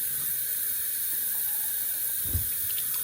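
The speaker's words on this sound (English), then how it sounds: "fill up my container" Warm water runs steadily from a tap into a container, a constant rushing hiss with a brief splashy burst partway through.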